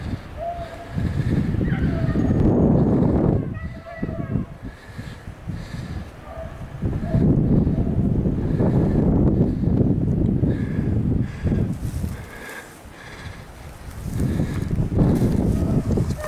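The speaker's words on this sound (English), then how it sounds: "It's pretty windy again today." Strong wind on a rabbit hunting day at Iron Mountain buffets the microphone in loud roaring gusts that rise and fall, with brief calmer gaps between them.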